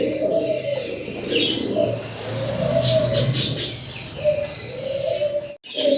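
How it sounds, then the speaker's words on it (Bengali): Kashmiri Lotan pigeons coo repeatedly nearby, soft rolling calls in a steady rhythm with brief wing flutters and faint background noise. "এটা কাশ্মীরি লোটন ভাই কাশ্মীরি লোটন কবুতর"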